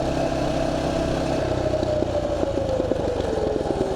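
A Mega Moto mini bike engine drones steadily and loudly while being ridden along a bumpy path, its pitch sliding gradually lower and broken by small clattering jolts.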